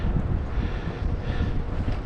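Gusting wind buffets the microphone beside a truck while a tarp is being secured, a steady low rumbling roar with no clear flaps or voices.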